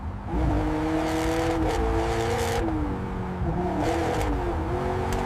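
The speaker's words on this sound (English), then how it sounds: "The engine sounded exactly as it should." A restored 2015 McLaren 570S Coupe on its first drive: a steady engine drone whose pitch climbs and drops through several revs and gear changes, with no talking.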